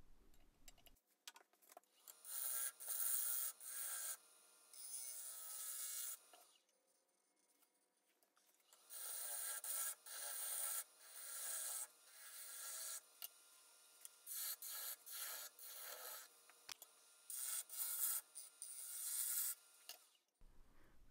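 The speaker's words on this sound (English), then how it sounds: "I'm using my negative rate carbide just to kind of hollow out a little bit of a depression there in the bottom" Carbide woodturning tool hollowing the bottom of an ambrosia maple bowl on a lathe, giving a steady raspy scraping in repeated bursts with a short pause in the middle, close and fairly quiet.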